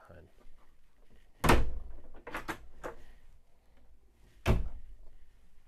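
A few wooden closet door thuds and knocks inside a 2024 Renegade Classic motorcoach, two sharper bangs about three seconds apart, with a person speaking quietly in between.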